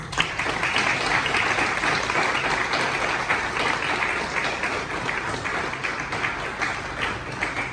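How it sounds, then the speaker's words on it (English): Sustained applause from an audience at a student awards ceremony, steady and full for several seconds, heard alone without talk. "So round of applause."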